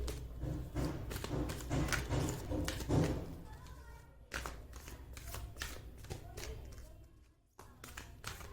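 Tarot cards are shuffled and tapped in quick riffling bursts, close but soft, with a steady low background hum.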